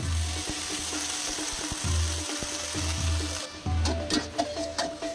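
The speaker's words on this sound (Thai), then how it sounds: "ผัดให้เส้นนิ่มนิดนึงเนาะ" Glass noodles for pad thai are stir-fried with added water in a hot pan, a constant sizzle broken by rhythmic scraping and tossing strokes, with brief clattering knocks toward the end.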